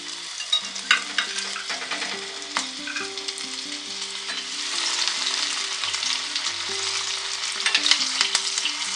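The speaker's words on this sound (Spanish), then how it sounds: "voy a empezar a freír cada una de las rodajas de los tomates" Green tomato slices frying in hot oil, a steady crackling sizzle with scattered pops and spatters and a low, intermittent tonal hum beneath, no voices.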